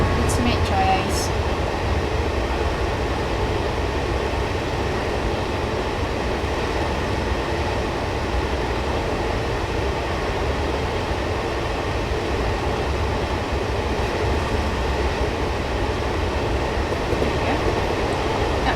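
A Class 66 freight train passes in the railway simulator Train Sim World 2021, a loud, steady, unbroken rumble of wheels and engine noise that holds at the same level throughout.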